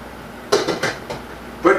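A lid clanks onto a metal pot of tamales on the stove, with a few close clattering metallic knocks followed by one more clack.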